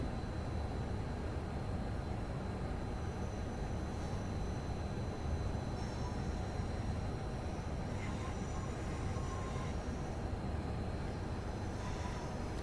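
A Class 390 Pendolino train drives along the West Coast Main Line in the Train Sim World 6 simulator, with a steady, unbroken low rumble of running gear and faint high tones drifting above it.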